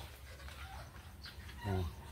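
A farmyard chicken gives a single short cluck close by, over a quiet outdoor background with faint rustling.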